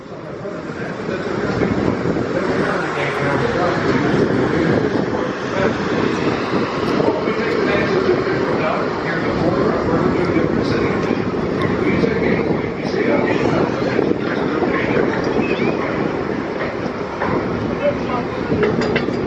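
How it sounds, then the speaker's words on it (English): Steam engine of the Natchez paddle wheel steamboat on the Mississippi River warming up, a continuous mechanical rumble with faint rhythmic clatter, steady throughout. "Right now, we're warming up the steam engine"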